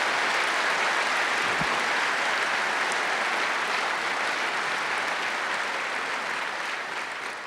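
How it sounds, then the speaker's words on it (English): A large audience at a science talk claps loudly and continuously, a thick roar of applause that holds for several seconds and begins to taper slightly toward the end. "How about it we just give them all a big round of applause?"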